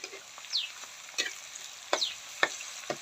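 Garlic fries in a pan while being cooked for Thai pork larb, a close sizzle with repeated sharp crackles and scraping bursts, with no one talking.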